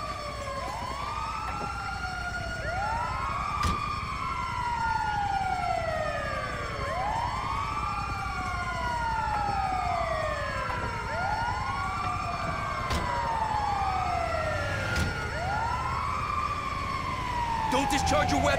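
A wailing ambulance siren from the video game Grand Theft Auto V sweeps up and down in repeated, steady cycles, loud and continuous throughout.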